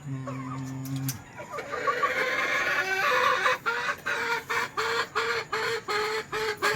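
Hens and roosters in a breeding pen on a farm clucking and calling, with a repeated rhythmic series of clucks and cackles close by, mostly alone with little talk.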